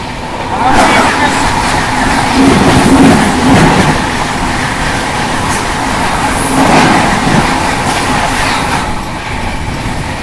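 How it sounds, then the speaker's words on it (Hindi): Mahabodhi Express rushing past in the opposite direction, heard from aboard a WAG-7-hauled Humsafar Express: a loud, steady rolling rumble and rattle of wheels and coaches that swells slightly and holds for the whole stretch. "सामने से ये आ रही है गया नई दिल्ली महाबोधि एक्सप्रेस"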